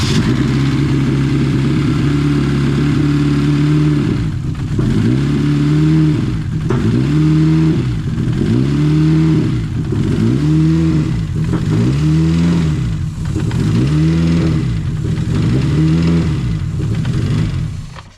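A Mini R50 race engine runs loud and close, revving in repeated rising and falling bursts roughly every second and a half over a steady growl, with no talking.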